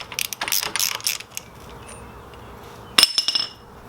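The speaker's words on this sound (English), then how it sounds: "Remove our bolt." A ratchet clicks in quick bursts while removing 10mm bolts from an RB25 engine's oil pump, followed by a bright metallic clink, all close and fairly quiet.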